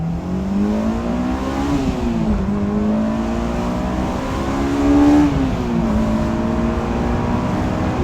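A Honda S2000 with exhaust and induction kit revs hard through a first-gear pull, the engine note rising and holding high with a brief peak near the end, loud and close throughout with no talk.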